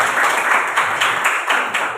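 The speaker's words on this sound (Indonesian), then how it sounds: "Tepuk tangan dulu buat temannya." Classroom applause for a classmate, a dense burst of many hands clapping together in a room, loud and pulsing for two seconds, then tapering slightly at the end.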